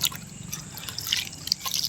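Water poured onto a guava plant makes a close, steady splashing and dripping with small irregular spatters throughout.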